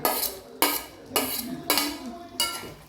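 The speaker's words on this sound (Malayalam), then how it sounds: "ഇനി ഇതിലേക്ക് അരിഞ്ഞ് വെച്ചിരിക്കുന്ന മല്ലിയില ചേർക്കുന്നുണ്ട്" Metal spoon clatters against a cooking pot as chopped coriander leaves go into a finished chicken curry, five sharp scraping clinks spaced about half a second apart, close and clear with no talking.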